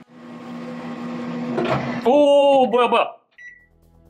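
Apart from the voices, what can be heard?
microwave oven running with a water balloon inside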